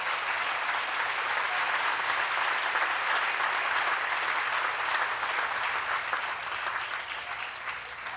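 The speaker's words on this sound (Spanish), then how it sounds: "Dele un aplauso al Rey en esta mañana" Congregation applauding during a church service, a steady, full wash of many hands clapping continuously, fairly even throughout and easing slightly toward the end.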